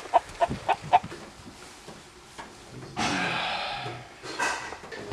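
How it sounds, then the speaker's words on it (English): A chicken on a South American sheep farm gives several quick clucks early on, followed by quieter shuffling and breathy noise. "Look at that chicken. Come here, chicken. Come here, little chicken."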